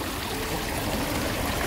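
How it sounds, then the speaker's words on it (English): Swimming pool water runs and overflows with a steady, close trickling stream that continues without break. "The pool water's always running, always overflowing."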